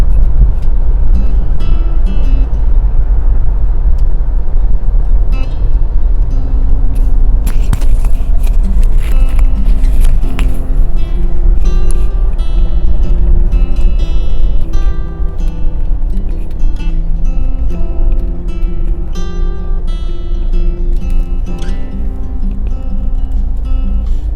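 Road traffic in Vientiane, Laos, rumbles as a steady, loud, close wash of engines, with scattered passing vehicles and faint mechanical clinks, and no voices standing out.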